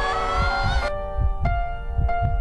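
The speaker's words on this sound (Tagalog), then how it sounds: "Para marinig natin ang tibok ng puso ni LA." A heartbeat sound effect: steady low double thumps repeat in a slow, even rhythm right after music cuts off, with a faint ringing tone lingering underneath.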